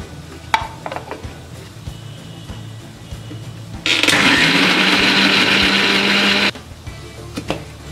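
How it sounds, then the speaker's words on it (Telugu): A mixer grinder blends onion, tomato, garam masala and whole spices into a paste, a loud whirring burst of about three seconds between quieter kitchen clatter and clicks. "ఒక ఆనియన్, ఒక టమాటోని తీసుకొని మిక్సీలో వేసి పేస్ట్ లాగా చేసి పెట్టుకోవాలి."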